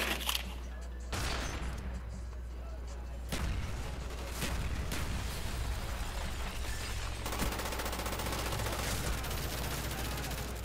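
Gunfire from the video game Call of Duty: Black Ops, with bursts and single shots cracking repeatedly over a constant low rumble, the firing dense and close throughout.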